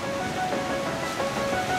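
Steady broadband rush of the Bolshaya Sumulta, a mountain river in Altai, flowing close by without pause, loud and continuous with no voices.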